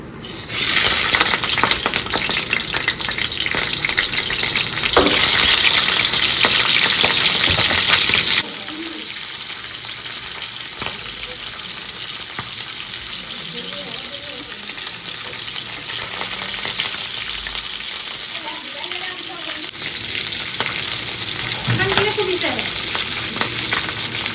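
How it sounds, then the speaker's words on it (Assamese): Rohu fish heads frying in hot oil in a pan, a loud, continuous sizzle with stirring and scraping noises, dropping slightly in intensity partway through and rising again near the end. "অলপমান তেল দিলোঁ তেল দি দিয়ে মাথাকেইটা ফ্ৰাই কৰি লওঁ"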